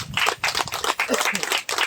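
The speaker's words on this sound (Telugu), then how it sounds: "దేనిగా చప్పట్లు కొడదాం." Audience clapping at a meditation gathering, a brisk burst of many hands in quick uneven rhythm, close and loud for the short stretch, with no speech over it.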